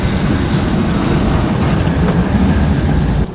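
Leviathan roller coaster train at Canada's Wonderland running along its track, a steady loud rumble with rail clatter held throughout before cutting off at the very end.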